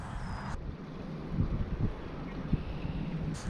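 Wind buffets the microphone throughout while crappie fishing outdoors in March, a steady rumbling gust with small thumps and a faint higher hiss.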